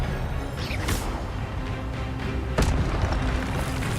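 Spell blasts from Hogwarts Legacy go off over a continuous bed of game noise, with a sharp burst around the first second and another heavier boom later.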